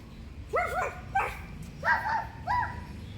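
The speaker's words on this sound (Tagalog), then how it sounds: "Ingay naman ng aso." A dog barks in short bursts, four or so yelping barks spaced across the clip, fairly close, over a low background rumble.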